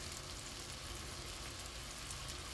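Bitter gourd (karela) sabji fries on a medium flame, a steady close hiss and sizzle with fine crackles and no voices.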